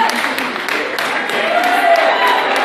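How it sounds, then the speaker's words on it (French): An audience at a Miss Montmagny election applauds Corinne in a Kabyle dress with scattered, brisk hand clapping in a hall, and a voice talks over the applause. "Applaudissez Corinne avec la robe berbère, toujours avec sa maman."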